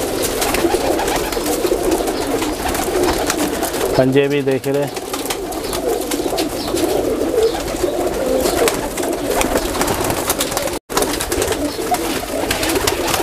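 Crossbred pigeons at a breeder's loft coo in a short burst amid steady background chatter and loft noise, with someone talking over it throughout.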